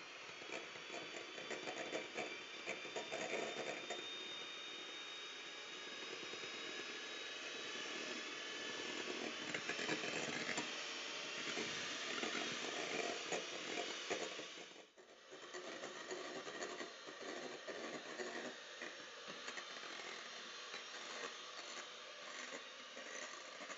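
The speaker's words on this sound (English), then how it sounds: "Then I'm going to be whisking the whites separately." Egg whites being whisked toward stiff peaks, probably with an electric mixer, making a steady high-pitched whirring buzz that runs without pause, briefly dipping midway, with no voices over it.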